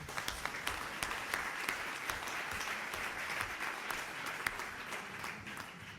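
An audience applauds deputy Caroline Yadan at a debate event, a steady, dense wash of clapping that holds evenly for the whole stretch.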